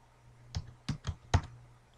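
Several clicks on a computer keyboard as a terminal command is typed on an Ubuntu server in VirtualBox, four or five sharp keystrokes in an uneven burst over a quiet background.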